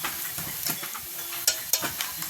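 Turmeric, garlic paste and ginger paste frying in a pan, a soft steady sizzle with scraping stirs and a couple of sharper clinks, close and fairly quiet.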